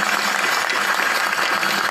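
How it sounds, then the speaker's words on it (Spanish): A church congregation applauding for priests, deacons and religious at a Guadalupe feast Mass, a dense, loud, continuous wash of clapping with no break. "Aplauso para los sacerdotes, los diáconos, los religiosos y religiosas,"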